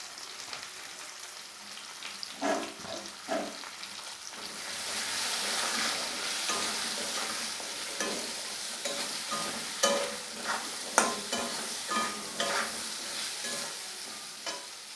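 Vegetable stalks and potatoes fry with salt and turmeric in a pan, a continuous close sizzle broken by repeated scraping stirs and clatters throughout.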